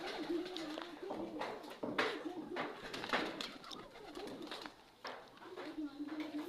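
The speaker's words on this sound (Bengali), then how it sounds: "খুবই এক পিস দেশি কবুতর বাচ্চা" Local domestic pigeon chicks cooing in a low, wavering rhythm nearby, with soft rustling and a person's speech faintly mixed in.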